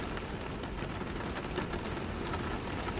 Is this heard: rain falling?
yes